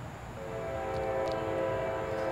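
A Norfolk Southern mixed manifest freight train with two Union Pacific locomotives trailing at the rear, passing with a steady rumble and a sustained horn blast rising over it.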